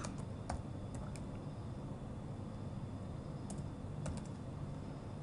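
Sparse keystrokes on a computer keyboard as a product's stock status is entered in a Magento store admin, a few quiet clicks scattered over a steady background hiss, with no talking.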